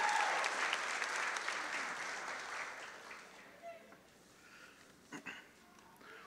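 An audience at a high school graduation ceremony claps in loud, dense applause that gradually thins to a few scattered claps, with faint voices in the hall.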